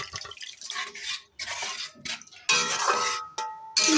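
Cooked dal is tipped into a pan of egg and chicken tadka in bursts of wet splashing and sloshing, with clinks of a utensil against the pan between pours; no talk.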